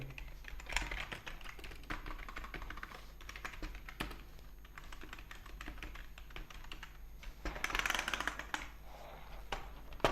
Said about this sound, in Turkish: Tuşlarımız gördüğünüz gibi çıkıyor ve bu mekanik bir klavye.